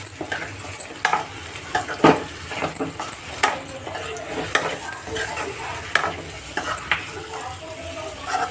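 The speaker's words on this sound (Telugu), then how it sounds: "కొంచెం గుడ్లు కూడా ఆయిల్లో వేగినట్టు అనిపిస్తుంది అన్నమాట." Eggs fry in oil with green chillies in a pan under a steady sizzle, while a spatula scrapes and stirs with frequent clinks against the metal, close up.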